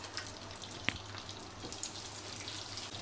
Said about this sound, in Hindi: इसे अच्छी तरह से मैं भून लूँगी